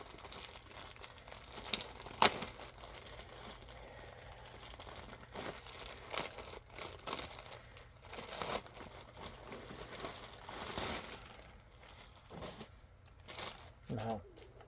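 A plastic Temu shipping bag being handled and torn open at close range, with bursts of crinkling, rustling and tearing that come and go irregularly, and a person talking quietly at times.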